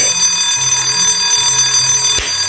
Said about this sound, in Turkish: Zil çaldı.